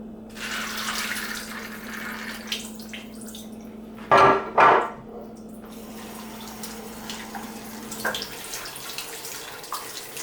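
Cold tap water runs in a sink while pumpkin seeds are rinsed in a strainer. A low steady flow is broken by two louder splashing gushes near the middle, with faint clatter around them.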